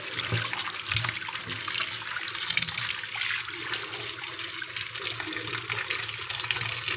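Drumstick (moringa) leaves being washed in water for soup, a steady broadband splashing and sloshing of water and swirled leaves that holds at a fairly constant level throughout, with no voices.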